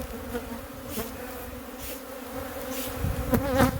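Bees from a honeybee colony hum and buzz steadily during a hive inspection, a continuous close drone with a few louder passes as single bees fly near, and no talk.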